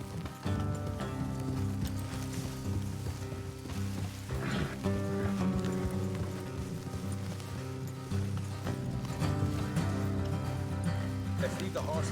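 Horses move along an off-road trail in the video game Red Dead Redemption II. Faint hoof clip-clops and a soft rustle sit under steady background game ambience and music for about twelve seconds, with no clear speech.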